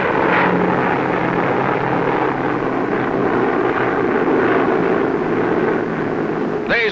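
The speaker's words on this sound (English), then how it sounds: "Again, the bombers." WWII bombers droning overhead during the 1944 Normandy invasion, a dense continuous roar of propeller engines that stays loud and steady throughout, with a rumbling low end.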